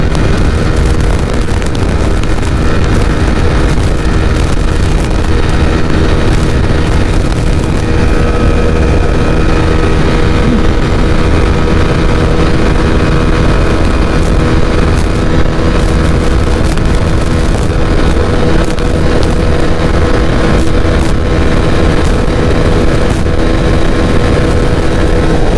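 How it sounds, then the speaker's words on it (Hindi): A 2021 TVS Apache RTR 160 4V motorcycle ridden at top speed, its engine note a loud, steady high drone blended with heavy wind rush that stays constant and close for the whole stretch. "जब मैं टॉप स्पीड चेक कर रहा था बाइक की"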